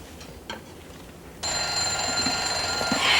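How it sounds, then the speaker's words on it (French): Vintage 1971 alarm clock, part of a comic pile of gadgets, bursts into a continuous loud bright metallic ring after a short quiet stretch, sustained steadily to the end without any talking. "J'ai un réveil."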